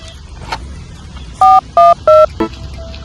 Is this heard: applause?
no